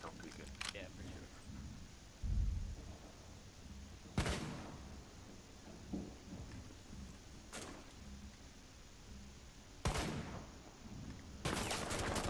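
Gunfire in the Rainbow Six Siege video game on the Favela map, with sharp bursts of shots around the walls, louder volleys at intervals and a closing flurry, over quiet background and occasional player chatter.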